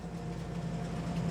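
Low steady rumble of a rented train arriving in Farming Simulator 22, a faint continuous engine drone without distinct events.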